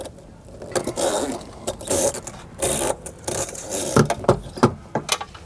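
A fold-out shower fixture in a 2025 Ford Transit high-roof camper van being folded back and tucked away, with a series of close scraping, rubbing and knocking clicks in irregular bursts, no voices.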